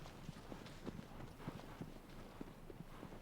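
Horse hooves clip-clopping in the video game Shadow of the Colossus (2018), a steady run of soft, even hoofbeats at close range, repeating through the clip over a low, hissy background.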